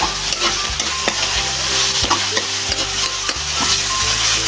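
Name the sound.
stirring string beans with corned beef in a frying pan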